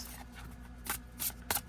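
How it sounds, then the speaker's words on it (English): A tarot deck is shuffled close by in three quick riffling bursts, crisp and papery, with no talking over them. "So I'm going to shuffle."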